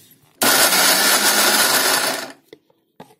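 Electric mixer grinding jaggery and sesame seeds runs as a loud, steady whirring roar for about two seconds, then cuts off, leaving a few faint clicks.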